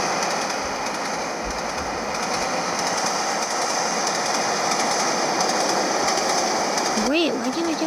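Steady rumbling of a train running in a railway video game, a continuous rolling clatter with a voice speaking briefly near the end.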